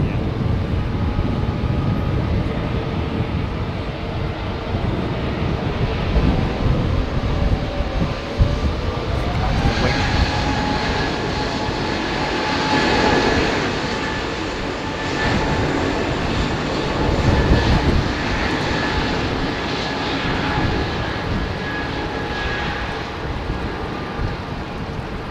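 A jet airliner passes at Heathrow Airport with a sustained, loud roar that swells and shifts in tone as it goes by, while voices talk faintly underneath.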